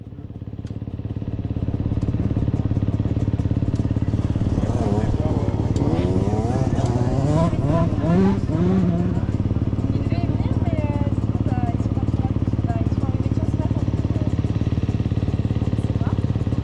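A racing sidecar motorcycle with a two-stroke Zabel engine in a VMC chassis runs steadily and loudly throughout, a constant droning engine note, with voices talking over it partway through.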